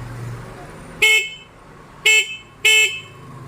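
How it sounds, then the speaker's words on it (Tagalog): A China-made 125–175cc underbone motorcycle horn, rewired through a relay for more power, gives three short, loud honks with a bright, buzzy tone: one, a pause, then two more close together. "Ayan, mas malakas po yung busina."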